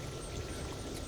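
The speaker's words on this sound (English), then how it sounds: "So I will go ahead and pour these 4 quarts in" Coolant poured from a quart jug into a Ford Fusion's cooling system: a steady, close, gurgling wash of liquid that keeps up without a break, with no talking.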